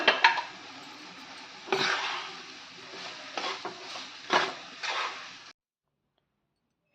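Attu pieces stirred into a Telangana-style curry frying in a pan, with several scraping, clattering strokes of a spoon against the pan over a soft sizzle, ending abruptly in silence.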